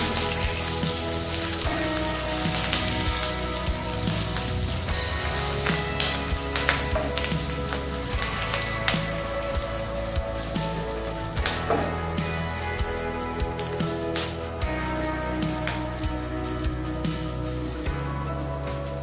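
Curry leaves and turmeric sautéing in hot oil give off a dense, continuous crackling sizzle with rapid popping spatters. It is close and loud for the whole stretch, with no voices.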